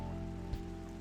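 Rain falling in a forest in the video game Sky, a steady soft patter with a low hum underneath and one brief thump midway, heard alone.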